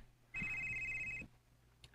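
A single electronic telephone ring sounds once, a steady bright trill lasting about a second, heard clearly over quiet room tone.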